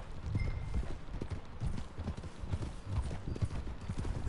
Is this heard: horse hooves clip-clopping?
yes